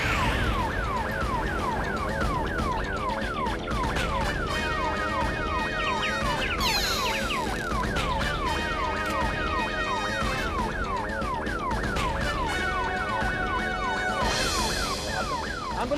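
An ambulance siren wails continuously with a rapid rising-and-falling cycle, loud and close, mixed with additional overlapping siren tones from emergency vehicles, with no speech.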